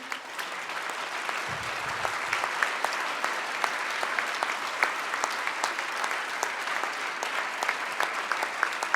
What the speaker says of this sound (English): You deserve an enormous round of applause for your resiliency